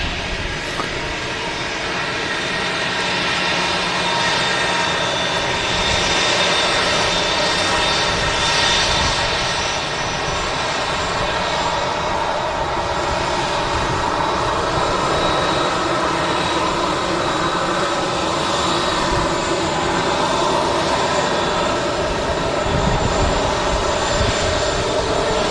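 An EasyJet airliner holds at an airport, its jet engines giving off a steady, continuous roar at moderate distance that stays even throughout with no voices over it.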